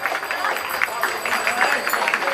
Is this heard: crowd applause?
yes